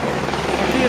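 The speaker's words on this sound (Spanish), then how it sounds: "mientras tenemos sobrevolando un helicóptero para realizar los primeros auxilios" A helicopter's rotor chop and whine fill the air overhead at an air force jet crash site in a residential area, with a voice talking over it.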